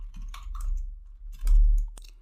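Typing a command on a computer keyboard: a short burst of close, crisp key clicks in quick irregular groups, with no talking.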